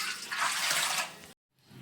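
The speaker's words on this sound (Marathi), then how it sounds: "त्याच टोपाने मी आठ टोप पाणी घेणार आहे" Water pours steadily into a cooking pot for about a second, a bright rushing splash that stops abruptly, followed by faint quiet room noise.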